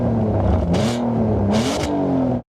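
Alfa Romeo 147 GTA with its 3.2-liter Busso V6 revving up close and loud, two sharp throttle blips rising over a steady engine drone before the sound cuts off abruptly.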